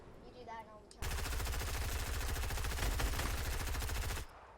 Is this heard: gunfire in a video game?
yes